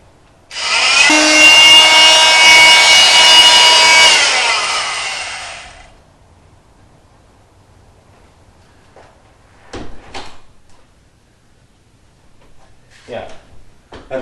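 A loud buzzing power tool runs for about five seconds while trimming a French door sweep, then stops; faint knocks and handling noises follow with a voice speaking.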